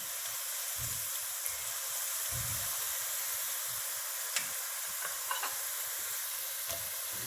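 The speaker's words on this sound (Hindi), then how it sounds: "अब हम इसके अंदर साबुत गरम मसाला सारा डाल देंगे और इसको थोड़ी देर के लिए आप फ्राई करें।" Whole garam masala spices frying with browned onions in hot oil for a chicken pulao, giving a steady, moderately quiet sizzle with occasional stirring scrapes and small pops, no talking.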